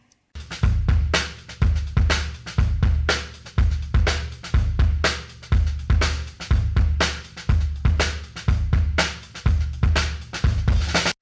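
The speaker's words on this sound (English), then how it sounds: "What I'll do is I'll play you the kick with and without that." Kick drum in a recorded mix, played with and without a low K trigger sample adding low-end knock: steady, evenly spaced punchy thumps repeating throughout, loud and clear with no talking.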